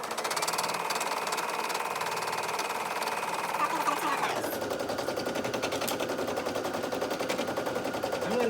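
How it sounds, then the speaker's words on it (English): Brother PE800 embroidery machine stitching fabric, a fast, steady mechanical needle rattle with a whirring motor that changes pitch midway, close and continuous. "I'm just going to go ahead and hit OK, and let it start stitching the 2020."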